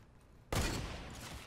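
A hunting rifle in Fortnite fires a single sharp shot that cracks abruptly out of near silence, then trails into a rolling echo that fades over about a second.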